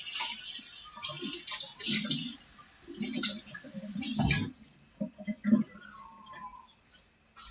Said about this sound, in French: Je vais les mouiller.